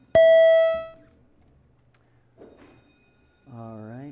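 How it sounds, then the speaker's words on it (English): A single loud electronic bell tone sounds at the start in a state Senate chamber for a quorum call. It decays over about a second, and faint room noise and a brief voice follow. "Could we please ring the bells, Madam Clerk, and we are going to do a quorum call."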